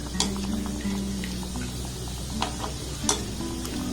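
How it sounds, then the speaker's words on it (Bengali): Small egg-based sweets frying one at a time in hot oil, a steady close sizzle with a few sharp clinks and stirring taps of a slotted spoon against the pan. "আমি এখানে একটা একটা করে ভেজে নেব।"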